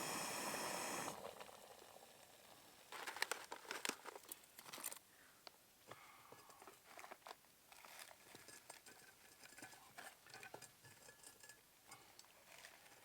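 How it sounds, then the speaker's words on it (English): Water boiling in a small aluminum pot on a camp stove during an overnight backcountry hike in Canyonlands Needles District, with faint bubbling, crinkling and soft clicks that come in irregular bursts across the clip and no talking. "It's boiling."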